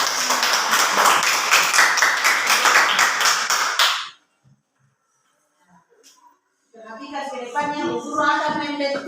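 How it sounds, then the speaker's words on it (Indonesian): A classroom of children claps their hands together for about four seconds of close, lively clapping. After a brief silence, a voice starts talking. "Tepuk tangan."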